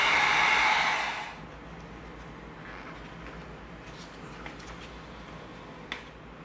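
A heat gun blows hot air onto EVA foam to soften it for bending, a loud close airy roar for the first second that then cuts off, leaving a quiet room with a couple of faint clicks.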